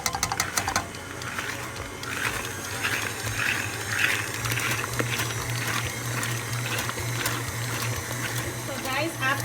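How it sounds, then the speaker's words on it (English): An electric mixer beats cream cheese and sugar for a cheesecake batter, giving a steady motor hum with rattling, churning texture throughout, fairly close, and a voice talks over part of it. "I'm going to turn on the mixer."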